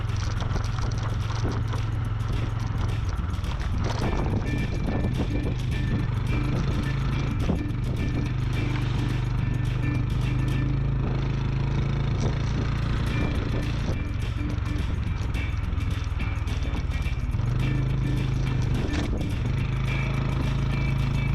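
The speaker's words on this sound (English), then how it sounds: "so it's technically more of a motorcycle, and throughout most of the world they would call it an underbone" An underbone motorcycle rides through sand, its engine a steady, loud, continuous drone with a low rumble that persists throughout.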